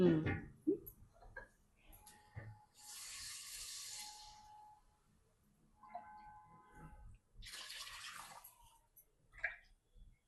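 Water is poured onto rice in a pot for jackfruit pulao, heard as two separate bursts of rushing, splashing flow with quiet handling clicks and knocks between them, close by.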